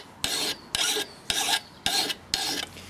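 A hand file rasps across a garden pruning lopper blade in five even, close strokes, each a bright scraping pass separated by brief pauses.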